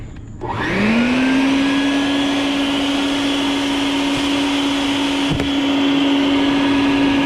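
A vacuum cleaner switches on and runs steadily and loudly with a rising whine, sucking up hornets from a nest at a table, with a brief knock partway through.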